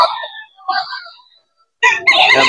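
Young roosters crow at a gamefowl market, one fairly close crow fading out, then a second shorter crow and a louder, harsher crow from nearby birds overlapping at the end.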